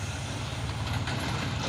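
Heavy trucks, including a Hino box truck and tanker trucks, rumble past in a convoy on an asphalt road, with a loud, continuous low engine drone close by.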